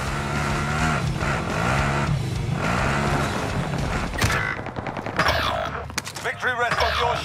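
A car is driven in a first-person shooter match, its engine rumbling under loud gunfire and mechanical clatter, with a voice speaking over the action.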